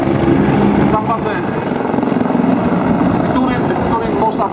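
A Mi-24 Hind attack helicopter at a military display, a loud continuous rotor and turbine drone with steady rhythmic blade chop, heard with someone talking over it.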